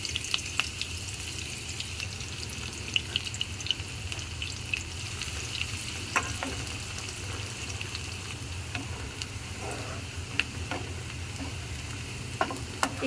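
Chopped onion frying in oil in a home kitchen, a steady crackling sizzle running throughout with scattered sharp pops and occasional stirring clicks, close and continuous with no talk.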